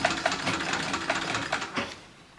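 A 1925 Singer treadle sewing machine stitching fabric in a one-room cabin, giving a soft rhythmic mechanical whir with light repeated ticking clicks over a short run, fairly quiet and close.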